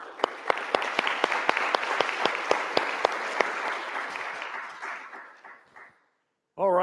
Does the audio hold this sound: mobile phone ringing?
no